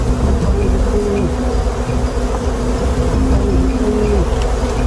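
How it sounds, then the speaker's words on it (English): A honey bee swarm buzzes densely around a wooden hive box as the workers migrate inside. The hum is loud, continuous and close, with individual bees droning past. "the workers were migrating into the hive box"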